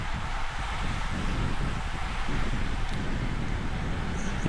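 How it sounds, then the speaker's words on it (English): Strong wind roars across a cyclist's microphone while riding in a crit race peloton, a dense, continuous buffeting rush, loud and close throughout. "so I'm copping a lot of wind"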